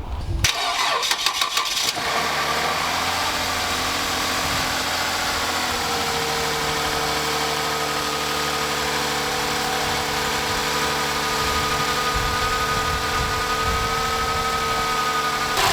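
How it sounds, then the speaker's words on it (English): A 2015 Lexus IS engine cranks briefly, catches and settles into a steady, even idle, loud and close, running after crankshaft position sensor replacement, with no talking. "fire up the car, and fingers crossed, it should start right up."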